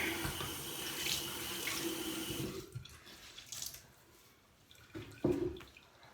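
Water runs from a sink tap in a steady hiss for a few seconds, then the flow is cut off, leaving faint drips and a couple of small knocks and splashes.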